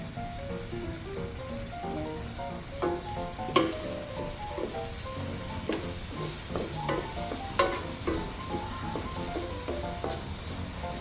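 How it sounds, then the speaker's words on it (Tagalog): White wine poured into shiitake risotto over medium heat sizzles with a soft, steady crackle, broken by stirring scrapes and a few sharper clicks of a spoon against the pan. "Lagyan na natin yung white wine. Medium heat lang po mga lovely people."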